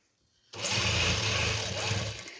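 A sewing machine stitches velvet after a moment of silence, its rapid needle chatter starting abruptly and running continuously and close at hand until the end.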